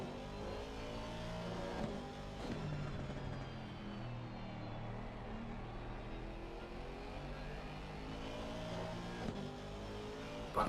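Aston Martin and Ferrari GT race cars battling in Assetto Corsa Competizione at an 8-hour endurance race in Barcelona, with engines revving and shifting continuously through gears at moderate volume and no talk.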